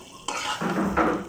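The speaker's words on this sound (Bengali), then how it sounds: "আলুটা একটু বড় বড় করে কেটে দিছি" Large-cut potato chunks being tipped into a pan and stirred, a brief burst of scraping and clattering over a soft frying sizzle, close and fairly quiet.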